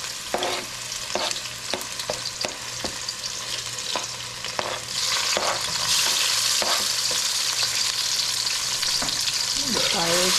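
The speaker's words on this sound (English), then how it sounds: "We're making some fried okra and smoked fish." Okra frying in hot oil alongside smoked fish, with a close, continuous sizzle broken by repeated sharp clicks and scrapes of stirring, the frying hiss swelling louder in the second half.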